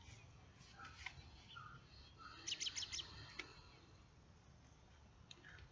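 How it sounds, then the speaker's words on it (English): A robin squawks from a bird pile nearby, giving a short burst of repeated, fairly loud calls in the middle, with softer chirps scattered around it over a quiet outdoor background. "There's one on the bird pile over there just squawking."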